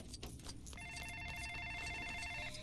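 A telephone rings faintly in a single electronic trill inside the game Lego Jurassic World, over low background noise.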